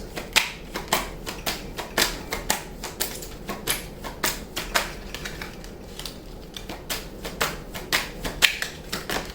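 Tarot cards drawn and handled from a deck: a steady run of crisp, close card snaps and taps, repeating about twice a second with no talking.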